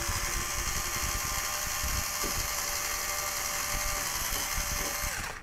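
A cordless screwdriver backing screws out of a TWANG unit, a loud steady high-pitched motor whine running nonstop at close range and cutting off at the end.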